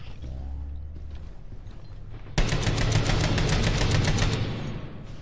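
Rapid automatic gunfire in the tactical shooter game Rainbow Six Siege bursts in loud and sustained after a quieter stretch of low rumble, the repeated shots forming a dense rattling volley that fades slightly toward the end.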